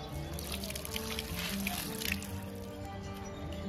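Water trickles and splashes steadily during face washing on a rooftop, a close, faint, continuous pouring with light dripping throughout.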